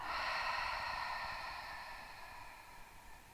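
A long, deep breath out after a held breath during a gentle vinyasa yoga session fades slowly over a few seconds, soft and close, with no talking.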